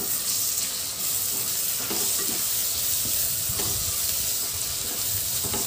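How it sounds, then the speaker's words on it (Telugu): Onions fry with ginger garlic paste for an Andhra-style mutton curry, giving a constant close sizzle broken by occasional stirring scrapes and spits. "మనకి ఆనియన్స్ బాగా ఎగిపోవాలి"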